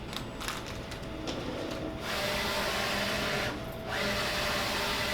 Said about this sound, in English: hit print, and let it start printing.